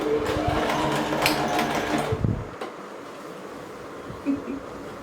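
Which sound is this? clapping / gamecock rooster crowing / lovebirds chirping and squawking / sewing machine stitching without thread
sewing machine stitching without thread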